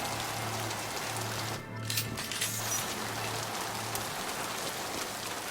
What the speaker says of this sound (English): I think that's the first time we've ever seen a rain effect in this series.